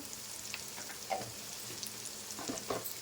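Garam masala and turmeric fry in a pan for egg pulao, giving a soft continuous sizzle with a few light spatula scrapes and stirs close by. No voices.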